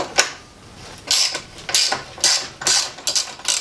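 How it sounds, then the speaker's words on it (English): A 9/16 ratchet wrench loosens leaf spring clamps on a 1940 Mercury sedan, close-up rapid clicking in repeated strokes, each burst of ratcheting followed by a brief pause. "But first I'm going to take these clamps loose here."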